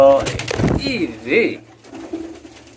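A breeding pair of domestic pigeons cooing close by, with a few soft, throaty coos rising and falling over about three seconds, and no talk.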